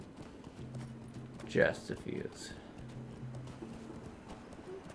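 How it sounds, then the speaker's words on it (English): Horse hooves clip-clopping in the online game Lord of the Rings Online, a short burst of quick hoofbeats in the middle, faint under people chatting. "your horse is only at 90 health"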